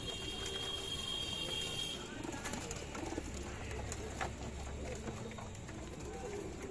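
Domestic high-flyer pigeons, including Giribaz and Beldanga breeds, coo softly in the background over a steady hum of ambient noise, with no clear voices.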